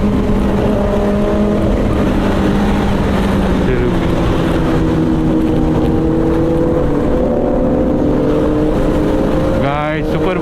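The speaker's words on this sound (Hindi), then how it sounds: "सुपर बाइक चेक करो, कावासाकी" Several Kawasaki ZX10R superbikes roar past in a line, engines droning loudly with rising and falling pitch as they fly by close to the roadside, with wind buffeting the microphone and a final sweeping pass at the end.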